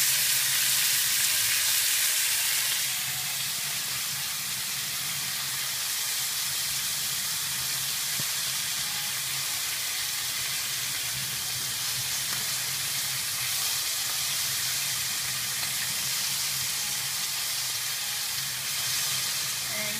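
Steak fries in a pan with a constant close, bright sizzle and crackle that holds steady throughout, briefly louder at the start.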